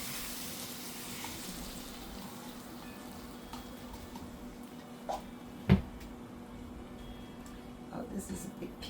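Veggie patties fry over high heat in a hot pan with a soft, steady sizzle, faint and close, with a sharp knock partway through and a few small clatters near the end.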